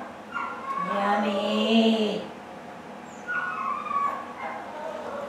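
Dog whining and yelping during a training session, with two bouts of high, wavering cries, the first long and loud, the second shorter, close by and with no talk over them.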